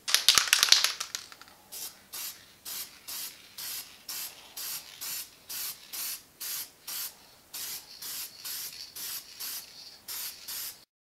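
A rattle can sprays paint onto a Honda S2000 fender: one longer burst, then a steady series of about twenty short, evenly spaced hissing puffs, close and clear without any speech.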